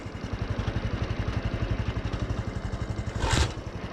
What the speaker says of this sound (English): only kickstart.